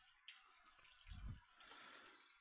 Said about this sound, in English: I'm going to really quickly off camera just hit it with some soap and water